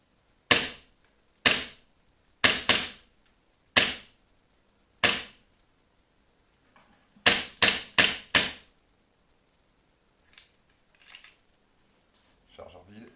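KWC Colt 1911 A1 anniversary airsoft pistol test-fired: sharp, loud close-up cracks, first five single shots spaced about a second apart, then a quick burst of four, followed by faint clicks and handling noise.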